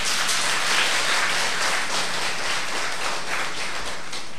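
Dense, steady applause from a seated audience at a Buddhist nun's dharma talk, a continuous wash of many hands clapping close and loud with no break for the whole stretch.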